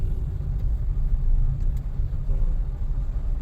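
Morning road traffic in Negril, Jamaica, heard from inside a moving car: a steady low engine and road rumble with passing vehicle noise, no speech.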